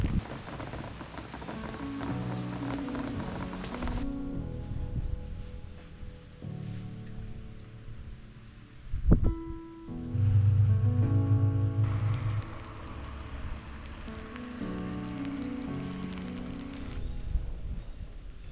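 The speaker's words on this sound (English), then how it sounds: "the rain has arrived like it does on so many of my trails" Steady rain patters down on a forest trail at Parker Dam State Park in peak fall foliage, a continuous close hiss with a brief sharp knock midway.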